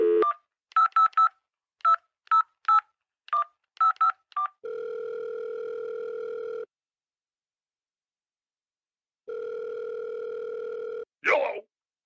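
Telephone keypad dialing a number: a quick run of about a dozen short beeps, followed by two long steady ringing tones separated by a pause, then a brief click at the end.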